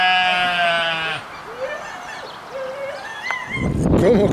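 A black Creole sheep gives a long, clear bleat up close, followed by quieter background animal calls and rustling on a farm beside an old rural pulpería.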